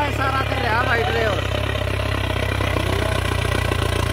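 A Sonalika 750 tractor engine runs in third high gear across a wet field, a loud, continuous, throbbing chug close by, with a voice briefly speaking over it near the start.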